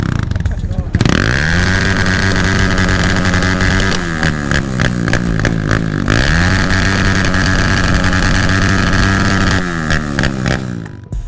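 A small motorcycle fitted with an aftermarket exhaust muffler revs repeatedly, a loud buzzing engine note rising and falling in several throttle blips, with someone talking over it.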